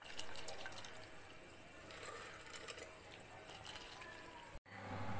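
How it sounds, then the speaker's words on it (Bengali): Water drains from soaked rice being readied for veg fried rice, a continuous close splashing trickle that runs steadily and then cuts off briefly near the end. "এবার চালের জলটাকে ঝরিয়ে নেব"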